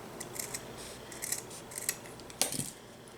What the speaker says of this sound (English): we're just going to take our piece of felt. It's a triangle, and we're just going to cut the corner off.